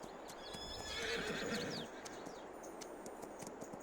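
A horse in the video game Farming Simulator 22 lets out a clear whinny over soft clip-clopping hooves, with faint birdsong in the background and no speech.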